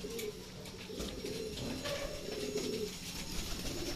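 A racing pigeon, just back at its loft after a sprint race, gives soft, repeated low coos over faint background noise.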